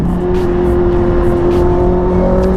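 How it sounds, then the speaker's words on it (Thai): Honda superbike, an RC213V-S or CBR1000RR-R fitted with a factory quickshifter, revving loudly up close with a steady droning engine note and brief dips as gears click up, no talk. "มันสดด้วยนะเวลาเราสับเกียร์ขึ้นอ่ะ"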